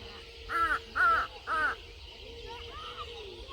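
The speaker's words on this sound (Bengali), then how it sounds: "পাখির কিচিমিচি শোনা যায় নাকি যায় না কিন্তু আমার কাছে মানে পাশে অনেক শোনা যাইতেছে সাউন্ডটা" Crows call outdoors at dusk beside a village mustard field after sunset: three loud, close, evenly spaced caws, then two fainter, drawn-out calls over a low steady background hum.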